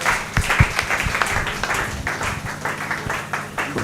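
A church congregation applauding to acclaim the Lord, steady loud clapping from many hands sustained throughout, with a few voices and cheers mixed in.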